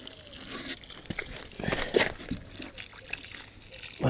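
Water trickles and pours onto conker seeds being soaked before planting, a close, uneven liquid splashing with faint crunchy rustles, then a louder pour near the end.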